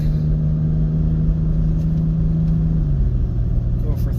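A pickup truck engine towing uphill in second gear drones steadily under load, a low hum that drops in pitch near the end as it labors, with a voice faintly present.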